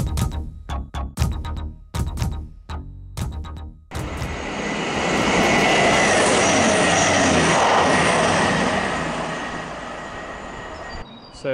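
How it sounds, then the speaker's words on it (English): Sharp rhythmic clacks of wheels over rail joints at Poynton, then a loud rushing roar as a Manchester-to-Birmingham cross-country passenger train sweeps past close by and gradually fades. "that was a cross-country service from Manchester to Birmingham"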